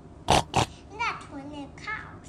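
A voices two quick oink-like bursts imitating a pig, followed by a short stretch of childish speech, all close and fairly quiet.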